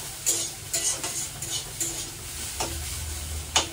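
Leafy greens (shak) frying in a pan on a gas stove, with a constant sizzle broken by several crisp scraping and tapping stir strokes, close and unvoiced.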